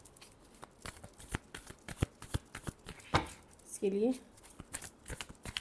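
Tarot cards are shuffled in a rapid run of crisp riffling flicks, with a person talking over them.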